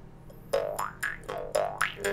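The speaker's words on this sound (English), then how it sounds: "move your lips from the edge of the jaw harp where you would normally play to closer to the outer frame" Muted, twangy jaw harp boings played near the outer frame, four or five quick plucks with wah-like pitch bends, close and soft, in a bouncy rhythm.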